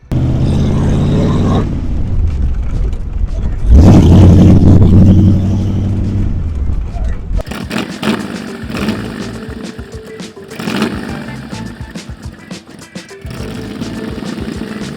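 A century-old Ford Model T fitted with a V8 engine and muffler drives along, its deep engine rumble loud and close, swelling with revs and shifting in tone as the car cruises.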